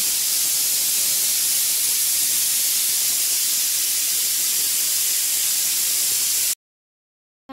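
Pressure cooker with boiling peas venting steam through its whistle, a loud continuous hiss that holds steady for several seconds and then cuts off abruptly into silence.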